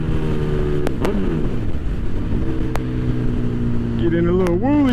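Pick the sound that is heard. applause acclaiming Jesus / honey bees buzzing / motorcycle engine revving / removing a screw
motorcycle engine revving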